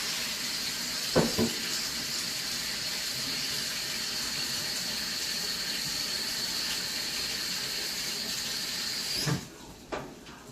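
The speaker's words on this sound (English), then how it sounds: "now it's time to rinse off my noodles." Hot tap water runs steadily over noodles being rinsed in a sink, a continuous close rush lasting several seconds, broken by a couple of brief clunks near the start and end.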